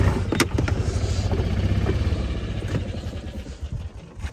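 A vehicle drives across a golf course toward the irrigation pump house, its engine a steady, moderately loud drone with light rattles, and no talking.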